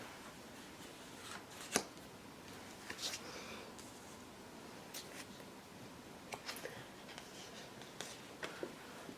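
Tarot cards shuffled by hand in a quiet room, giving faint papery riffles and scattered light snaps and clicks at irregular intervals, with no voice heard.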